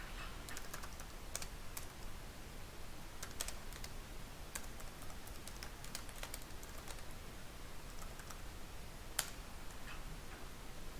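Quiet clicking of a computer keyboard as a netstat command is typed, with scattered light keystrokes and a few sharper taps over a soft background hiss, no voices.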